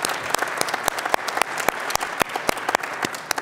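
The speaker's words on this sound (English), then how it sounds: "Let's give them a big round of applause." An audience at a plenary summit session gives a round of applause, dense clapping with distinct sharp individual claps standing out, steady and fairly close.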